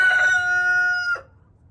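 A rooster crows loudly close by, one long sustained cock-a-doodle-doo ending in a sharp drop.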